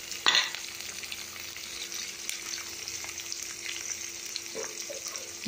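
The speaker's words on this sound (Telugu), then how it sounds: "ఆనియన్స్ వేయాలి, ఆనియన్స్ సేపు బాగా వేగాలి" Onions and curry leaves fry steadily in a pan for a dal with raw mango pieces, giving a continuous close sizzle with a sharp crackle at the start and faint scraping later, no voices.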